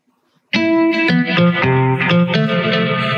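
A synthesizer electric guitar preset in the Nexus virtual instrument plays a short riff of overdriven chords and notes, bright and buzzy, starting abruptly after a moment of silence.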